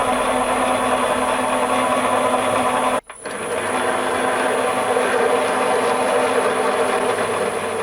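A milling machine fitted with a lathe chuck drills with a 20 mm taper-shank drill, giving a loud, steady mechanical whir and grind that cuts out briefly once, then resumes without speech.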